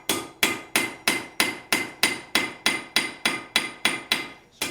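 A blacksmith hammers hot steel to draw it out into a tapered point, giving about fourteen sharp, ringing blows in an even, steady rhythm, close and loud with a short decay after each strike and no talk.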